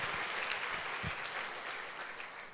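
Church congregation at a Sunday service applauding, a steady broadband wash of many hands clapping together, fairly distant and even throughout, with no voices standing out.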